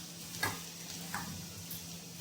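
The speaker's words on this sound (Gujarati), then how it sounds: "લસણ જરાક તળાઈ જાય તેલમાં" Chopped garlic frying in hot oil for a tempering that already holds mustard seeds, giving a steady, soft sizzling hiss with a few faint stirring clicks, close but quiet and without talk.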